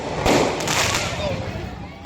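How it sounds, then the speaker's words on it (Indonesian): Fireworks and firecrackers set off on an asphalt street at New Year crackle and hiss loudly and continuously close by, with a burst of sharp pops at the start and a sustained fizzing spray after. "Beberapa warga membakar kembang api dan petasan di atas aspal menyebabkan pengendara kesulitan melintas."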